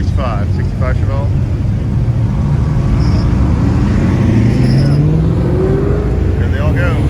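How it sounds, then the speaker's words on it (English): A 1965 Chevrolet Chevelle muscle car rumbles past at a cruise, its engine note rising and falling as it nears and moves away, with crowd noise and talk over it. "Here comes another Chevelle. 64 or 65? 65 Chevelle."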